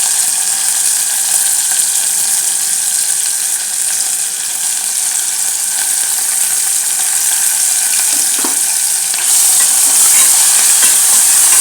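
Onions fry in a pan for a chicken curry while being stirred, giving a loud, steady sizzle with a faint scrape of the spoon partway through.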